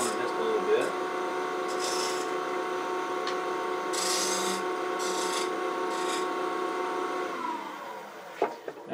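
A woodturning gouge nips the corner of a wooden cube spinning on a lathe, giving a steady rasping, rubbing cut with a constant motor hum throughout, a few brief louder scrapes, and a knock near the end.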